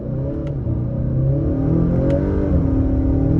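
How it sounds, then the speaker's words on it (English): A 2022 Acura RDX A-Spec SUV accelerates hard with its tires on the verge of spinning. The engine gives a loud, steady, close roar that builds slightly over a few seconds, with no talking. "You gotta be careful with that gas pedal because it really wants to spin those tires."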